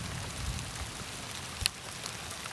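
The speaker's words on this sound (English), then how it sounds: "And then the rain was pelting down on him in that last section, just as the forecast predicted." Heavy rain pelting down on a lone paddler on a long solo river journey toward the Bering Sea, a steady dense hiss of drops with a low rumble of wind underneath and one sharper spatter near the end.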